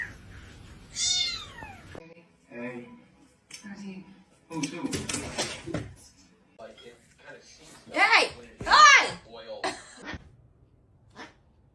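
A cat meows several times, drawn-out rising and falling cries close to the microphone, with a sneeze-like snort, separated by quiet gaps while a person talks in between.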